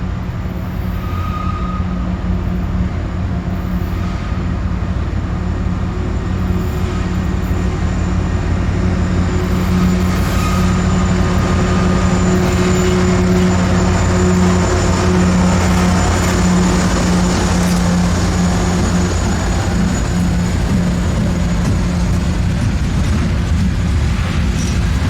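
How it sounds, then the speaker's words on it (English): A CSX ET44AH locomotive leads a heavy 200-car loaded coal train beside a river, its diesel drone loud and continuous with steady tonal hum and rolling rumble throughout. "With 200 loads for Newport News, CSXT 3333 and ET44AH leads the C11812 east as it rejoins the banks of the Greenbrier River."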